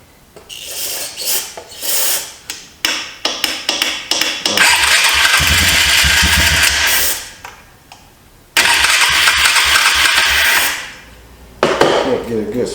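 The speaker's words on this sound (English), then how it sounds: "You have to really get the engine twirling" A 2004 Polaris Trail Boss 330 ATV engine cranks in a series of short, uneven bursts, then catches and roars loudly for a few seconds, cuts out, and roars again before dropping off.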